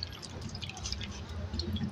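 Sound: bread dough being put into water

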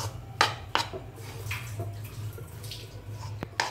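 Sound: stirring besan gram flour and ghee in a pan

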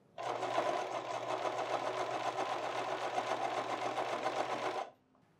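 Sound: sewing machine stitching a double welt pocket

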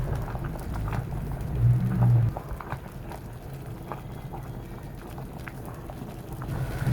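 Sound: sticky rice simmering in water while being stirred

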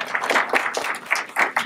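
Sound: audience applause at awards nominations press conference

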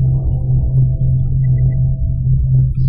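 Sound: ship pulled out of hyperspace in video game Homeworld 2

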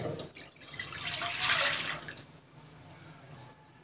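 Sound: milk being poured into a pan

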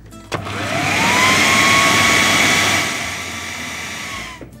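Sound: electric mixer beating gluten-free bread dough

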